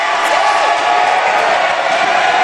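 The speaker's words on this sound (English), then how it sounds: "As the crowd gets loud" A high school basketball crowd roars during a tense overtime free throw, a dense, loud, continuous wall of cheering and shouting that holds steady throughout.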